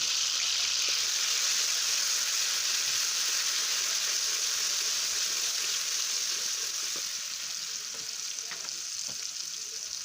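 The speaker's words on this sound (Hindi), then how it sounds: "इसको हल्का सा फ्राई करेंगे।" Steady, close sizzling of ginger garlic paste frying in hot oil, a dense crackling hiss that holds level throughout with occasional faint clinks.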